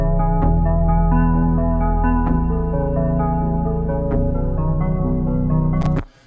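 A synth arpeggio from the Electra X plugin in a K-pop style beat, sustained bright harmonic tones cycling over a deep steady bass drone, loud and continuous for about six seconds before cutting off abruptly.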